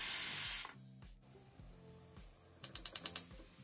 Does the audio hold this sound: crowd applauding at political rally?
no